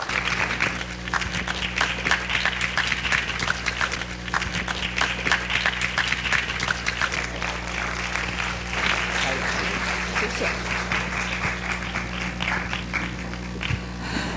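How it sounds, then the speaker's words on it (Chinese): Sustained applause from a lecture audience welcoming guest speakers at a university talk, a dense, steady clapping crowd that holds at full strength throughout without pause. "掌声欢迎。"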